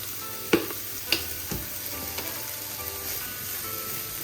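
Minced garlic sizzles in hot oil for a hibachi bowl, a steady close frying hiss punctuated by a few sharp clacks of a utensil stirring against the pan.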